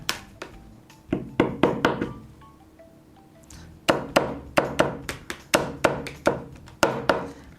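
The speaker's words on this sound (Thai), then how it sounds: "ต่อไปก็จะเป็น ปังตอ" Sharp, close strikes of a meat cleaver hacking onto an Ablemen premium protective film, roughly twenty loud chops in rapid clusters separated by a short pause.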